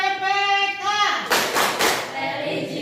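Classroom of children doing the rhythmic Tepuk PPK clapping chant, a burst of group hand claps after a teacher's spoken lead, moderately loud and close, with voices before and after.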